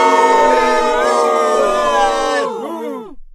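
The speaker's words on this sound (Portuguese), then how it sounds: "Que porra de vaias foram essas?" A comedy-show audience boos loudly after a joke, a dense, sustained chorus of voices that sags in pitch and trails off at the end.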